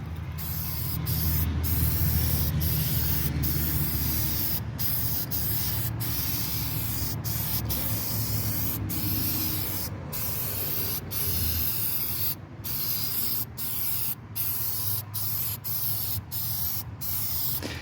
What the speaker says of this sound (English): I'm just spraying the damaged areas that I sanded down